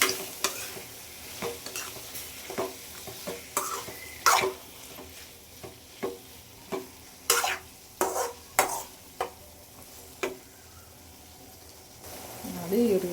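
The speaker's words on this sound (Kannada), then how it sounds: "ಇವಾಗ ಮಿಕ್ಸ್ ಮಾಡ್ಕೊಂತೀನಿ ಚೆನ್ನಾಗಿ." Tomatoes with turmeric and salt fry in oil in a pan as a spoon stirs in repeated scraping strokes, roughly one a second, over a soft sizzle, close and moderately quiet.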